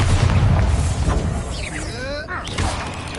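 The Bombarda blasting spell in Hogwarts Legacy sets off a rumbling, burst-like explosion, with whooshing tones sweeping up and down midway and a voice mixed into the game sounds.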